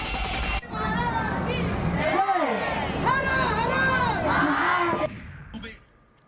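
A large crowd of Shivaji devotees at a midnight Shiv Jayanti cradle ceremony in a town square, with a dense, loud wash of cheering, shouting and babble that carries steadily before cutting off, with a voice speaking over it.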